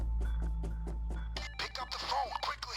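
A telephone rings inside the Payday 2 video game during a solo stealth heist, repeating in steady evenly spaced bursts over a low hum before game noises and chatter take over.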